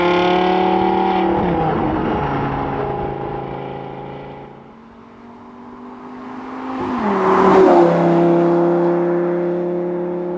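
A Lamborghini accelerates hard in Corsa race mode, its loud engine note climbing through clear upshifts, easing off, then surging again with another sharp shift.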